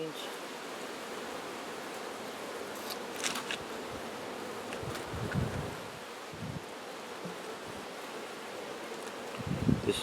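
Honey bees on a hive frame with honey, nectar and a few drones, giving a continuous close buzzing drone with occasional soft rustles and bumps from handling.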